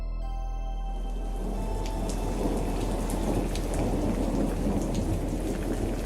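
Heavy thunderstorm with dense, steady rain pattering on surfaces and deep rolling thunder underneath, building from near silence into a continuous loud downpour.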